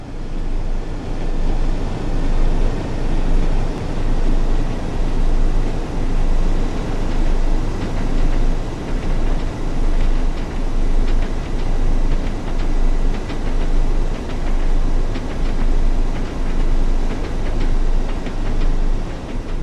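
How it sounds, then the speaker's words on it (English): A Class 101 diesel mechanical multiple unit with geared transmission rumbles steadily on the rails in Train Sim World 4, a loud, continuous engine and wheel drone with a faintly pulsing rhythm. "This Class 101 diesel mechanical multiple unit features a geared transmission"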